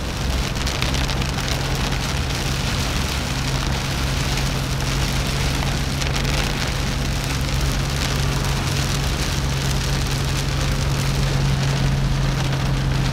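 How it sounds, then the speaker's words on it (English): Steady, heavy rain drums continuously on a hard surface, a dense even roar with no pauses and no voices. "we've got 2 heavy rain cells and heavy thunderstorms that we're driving through right now"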